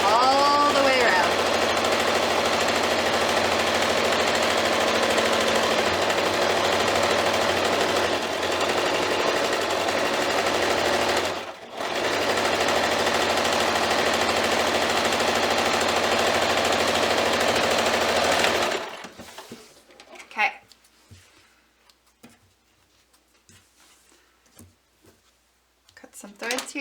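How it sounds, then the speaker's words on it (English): Sewing machine stitching a quilted stocking, a steady mechanical whir running continuously for most of the stretch with one brief pause, then stopping and giving way to quiet handling sounds. "cut my threads, go to the next pin, forward, back, and then keep sewing"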